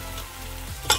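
Onion and garlic fry in vegetable oil in a pan, a soft, close, continuous sizzle ending in a brief sharp clink or scrape.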